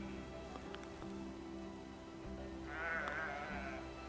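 Sheep bleating at the Ephesus ruins, a single wavering bleat rising out of faint outdoor background hum, heard from a moderate distance with no talk over it.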